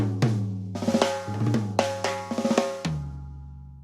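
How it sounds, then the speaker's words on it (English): Drum kit with toms and snare tuned tight so they ring, struck in a quick fill of sharp hits with sustained pitched ringing tails, close and loud, ending on a lingering resonant tone. "tune your toms and snare tight so they can ring."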